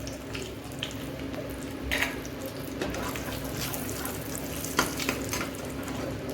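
Bay leaf and whole spices dropped into hot oil left from frying prawns, giving a steady close sizzle with stirring scrapes and a few sharp crackling pops.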